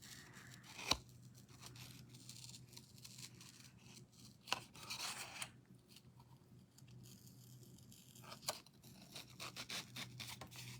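Scissors snip through paper in a quiet room, a few distinct crisp cuts spaced seconds apart among soft rustling and handling noises, faint and close.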